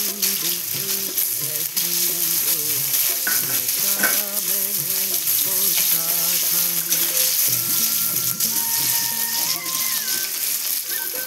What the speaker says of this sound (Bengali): শুকনো লঙ্কা আর গোটা জিরা ফোড়ন।